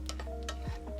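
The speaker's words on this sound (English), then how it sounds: "Peanuts are toasting, slowly frying up." Peanuts toast and slowly fry in a pan for peanut butter, giving soft irregular crackles and light ticking sizzles at close range, with a faint background hum.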